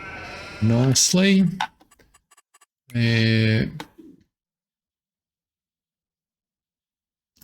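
Sheep bleat clearly in the Adelshoven farming video game, two loud drawn-out calls separated by a pause, with a voice speaking briefly between them.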